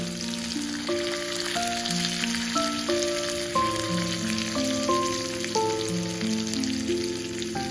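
Curry leaves, onions and green chillies fry for a tempering with a constant crackling sizzle like rain on a surface, while sustained musical tones play over it.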